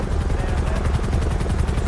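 A helicopter in GTA 5 roleplay thumps with a steady, loud, close rotor beat throughout.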